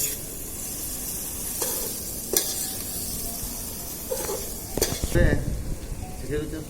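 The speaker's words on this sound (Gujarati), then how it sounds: "હવે આપણે ટમેટા નાખી દઈશું અંદર એને થોડાક મિક્સ કરી લઈએ" Tomatoes and onions fry with a constant hiss in a pan over a traditional clay stove, with occasional stirring scrapes and knocks of a spoon against the metal, heard close and alone.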